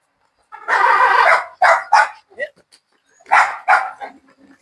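A dog on a farm where Jersey cows are kept barks in several loud, close bursts, a long bark followed by shorter yips and a faint whimper near the end.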